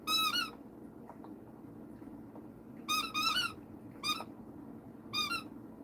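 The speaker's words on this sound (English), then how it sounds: "That's my dog playing with her squeaky toy." A dog plays with a squeaky toy, giving sharp high squeaks in short clusters, a burst at the start and several more later, loud and close against a quiet room.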